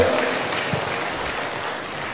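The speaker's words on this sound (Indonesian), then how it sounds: "Berikan tepuk tangan bagi Tuhan." Church congregation clapping in praise to God after a sermon, a dense, fairly loud wash of applause that fades slightly over about two seconds.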